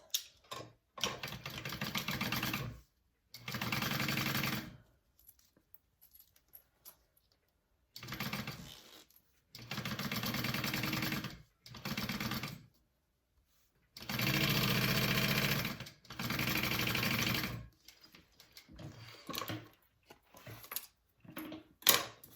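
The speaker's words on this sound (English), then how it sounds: "we're just going to baste along this top edge at an 1/8 inch seam allowance" A sewing machine bastes along the top edge of a zipper for a bucket bag, running in short bursts of steady whirring separated by quiet pauses and small handling noises.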